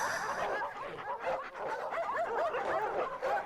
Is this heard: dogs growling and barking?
yes